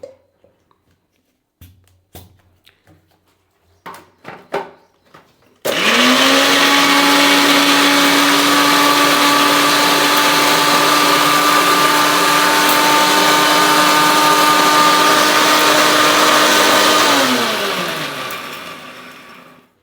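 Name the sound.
electric mixer grinder grinding spices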